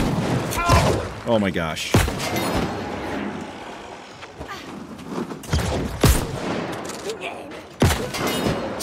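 Gunshots and booming fusillades in the video game New World crack out at irregular intervals, loud and close, while a player talks and exclaims over the shots.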